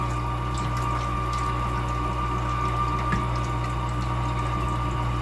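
Hand-cranked tomato strainer machine separating skins and seeds from the pulp of garden tomatoes, giving a steady, loud, continuous churning and whirring with a watery wash and a constant mechanical hum throughout, no voices.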